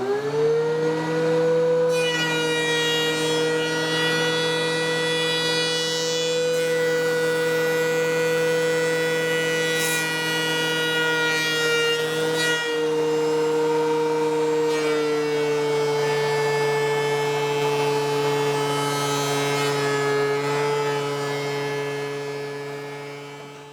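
A planer feeds thin wood boards for a console table, its loud motor whine droning steadily and unbroken for the whole stretch with a slight dip partway through, and no voices.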